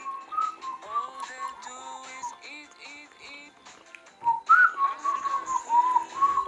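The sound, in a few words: person whistling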